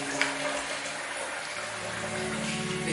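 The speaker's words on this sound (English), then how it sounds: "we'll just rinse it off" Running water splashes steadily and close by while a face is rinsed off during a shave, a continuous even gush with no talking.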